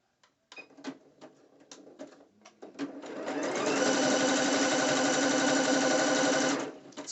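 A sewing machine set to zigzag stitches across a fabric band for a two-piece dance outfit. A few short clicks and taps come first, then the motor runs in a steady, close, rattling whir for several seconds before stopping.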